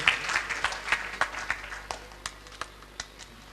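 Scattered applause for Dr. Rajneesh Charan after a music and theatre performance, a few distinct claps spaced irregularly and thinning out, fairly faint over a quiet room.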